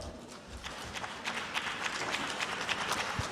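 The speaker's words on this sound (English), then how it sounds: "Please clap better." An audience claps at a women's conference in Lusaka, Zambia, a moderate, scattered and uneven patter of hands that builds slightly over a few seconds.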